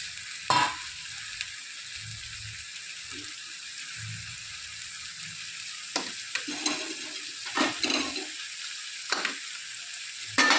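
Sirraku greens fry in a pan with a steady, close sizzle throughout, broken by a few sharp scraping stirs of a utensil against the pan.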